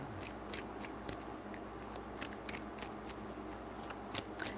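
Tarot cards are shuffled three times, a soft steady riffling with crisp snapping flicks, fairly quiet and close, with no voices.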